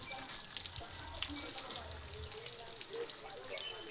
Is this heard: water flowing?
yes